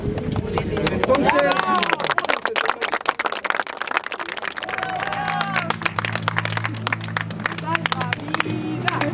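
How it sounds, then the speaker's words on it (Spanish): A community crowd gives a round of applause to a collective, with dense clapping throughout and people talking and calling out over it; a low steady hum enters partway through. "Un fuerte aplauso al colectivo Transhumantes."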